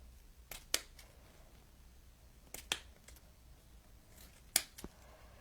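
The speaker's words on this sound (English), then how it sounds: "so I'm just going to trim some of these" Scissors make a straight trimming cut through ribbon on a handmade Halloween décor sign bow: three separate crisp snips, spaced a couple of seconds apart, each short and sharp against a quiet room.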